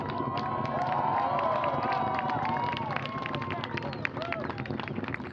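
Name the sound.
crowd cheering rocket launch liftoff at Wallops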